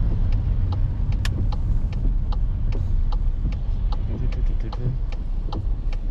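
A car driving on an icy road toward a driving test centre in Horsforth, Leeds, while the driver gently taps the brakes and turns right. Steady, close engine and road rumble runs throughout, with faint clicking ticks above it.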